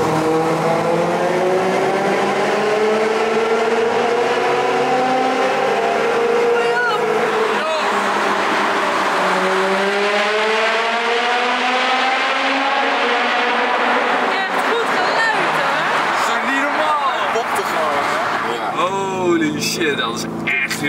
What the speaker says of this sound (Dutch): Dus dan gaan we nogmaals even een keer ultiem genieten van zijn motorgeluid.